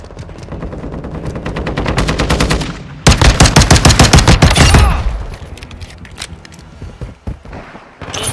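X12 pistol gunfire in Call of Duty: Modern Warfare 2 rings out in fast, loud bursts of rapid shots, close and sharp, with a brief pause before more firing and scattered single shots at the end.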